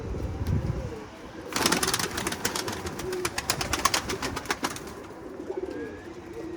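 Pigeons flown in a windstorm burst into flapping wing beats for a few seconds, a rapid fluttering clatter close by over gusty wind, with faint cooing around it.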